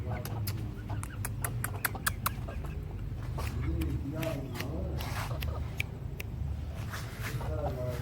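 Mianwali hens cluck and peck at scattered food nearby, with soft repeated clucks and sharp pecking clicks over a low steady background hum, no talk.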